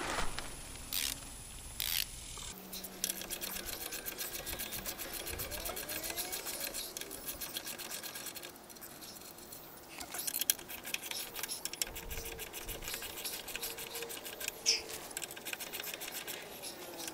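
A hand ratchet fitted with a 5/8 socket loosens the U-bolts on a Tracker boat trailer's springs, giving a steady run of close, quick metallic clicks and scraping that continues for most of the stretch.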